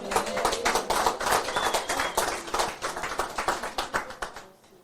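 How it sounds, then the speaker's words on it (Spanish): A church congregation claps along in quick, steady rhythm for close to five seconds, the dense hand claps loud and close before tapering off at the end. "Dale un aplauso al Señor."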